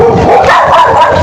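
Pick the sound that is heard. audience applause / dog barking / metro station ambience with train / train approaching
dog barking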